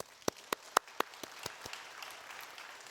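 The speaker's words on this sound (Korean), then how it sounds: "우리 이교구를 위해서 뜨거운 박수." Scattered claps from a church congregation at a Korean sermon, a few sharp separate hand claps at first, then thinning into faint, sparse patter.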